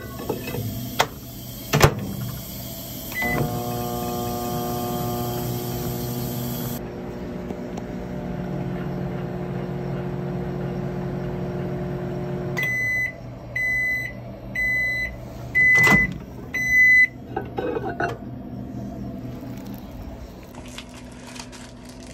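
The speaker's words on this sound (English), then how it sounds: "put it in your microwave." A microwave oven hums steadily for several seconds, then stops and gives a series of short, high beeps.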